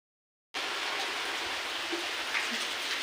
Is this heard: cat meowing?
no